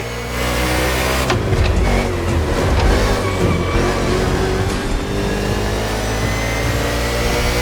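A NASCAR race car engine in the video game The Crew Motorfest, on an urban street race in Honolulu, Hawaii, droning loudly and steadily at high revs with small shifts in pitch and no talking.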